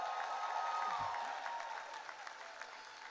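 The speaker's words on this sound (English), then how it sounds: "Give yourselves a round of applause." At a college recognition ceremony, graduates and guests give a round of applause, a steady, fairly distant wash of clapping that gradually softens.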